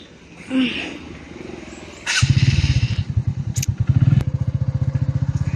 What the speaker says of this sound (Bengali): এই যে আমি এখন বাইকে উঠবো।